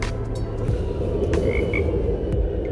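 A bullfrog croaks at night at a dark sky site, its low grumbling calls repeated under a steady outdoor background hum, with a faint chirp or two overhead.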